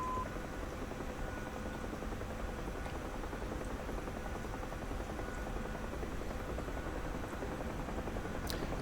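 A UH-1H Huey helicopter in flight in the DCS World combat flight simulator over the Damascus region, a steady, unbroken rotor and turbine drone at constant level throughout, with no talking.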